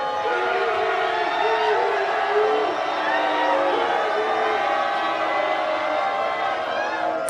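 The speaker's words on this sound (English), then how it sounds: "Crowd having fun" Sports arena crowd noise at a college volleyball rivalry match between West Texas A&M and Angelo State, a steady roar of voices and whoops running continuously throughout.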